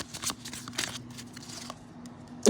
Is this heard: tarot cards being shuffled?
yes